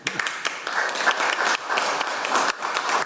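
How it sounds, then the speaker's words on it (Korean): A conference audience at a Korean healthcare innovation forum bursts into steady, dense applause to welcome a hospital professor, the clapping sustained and fairly close throughout with no talking over it. "그럼 여러분 큰 박수로 맞아주시고요"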